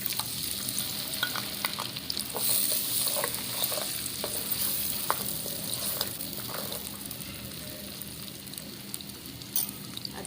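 Chopped onion frying in hot oil for a smoky liver dish, a steady close sizzle with scattered crackles and pops and occasional stirring, no talk.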